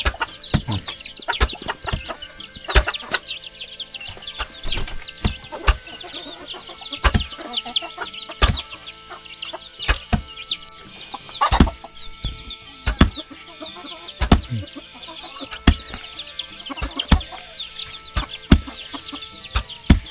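Chickens cluck and squawk around a remote rural village without electricity, with a rooster's calls and bursts of flapping wings, the birds close and scattered in irregular overlapping calls.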